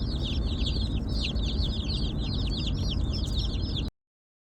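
Newly hatched meat chicken chicks peep constantly in a dense, busy chorus while riding home in a vehicle with a low steady rumble beneath them. The sound cuts off abruptly just before the end.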